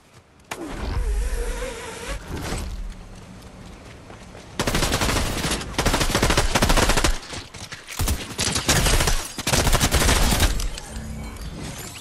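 Rapid bursts of combat SMG gunfire in the video game Fortnite, loud dense automatic volleys in several stretches separated by brief gaps, mixed with other game sounds and no talk.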